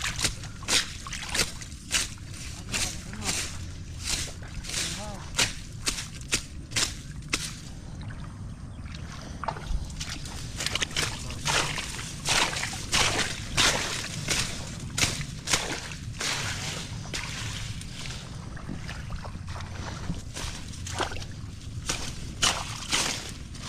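Water flows strongly through a field after rain, sloshing and splashing with repeated sharp bursts over a continuous rushing bed, close by and without talk.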